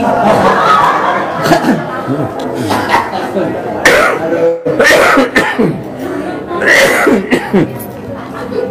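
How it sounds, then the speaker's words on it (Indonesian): A person coughs several times in short bursts amid lively conversation and chuckling, the coughs close and mixed in with speech. "Sampai batuk-batuk saya."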